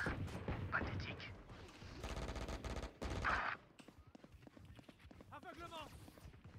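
Rapid bursts of Phantom rifle gunfire in the video game Valorant sound in quick strings under near-constant talking from a player, with brief footsteps and reload clatter between shots.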